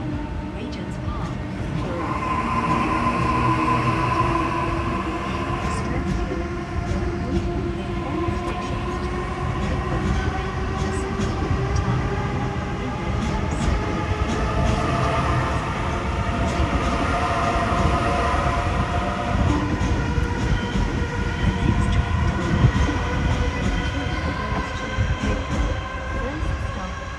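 A Sydney electric commuter train pulls away from a station with a steady rumble and rising whine of motors that climbs in pitch as it gathers speed.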